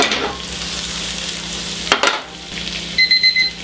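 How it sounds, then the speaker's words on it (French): Homemade butter melting and sizzling in a frying pan, with garlic to follow. A close, steady sizzle is broken by a brief clatter midway, and short electronic beeps sound near the end. "Beurre maison dans la poêle. Et on laisse fondre."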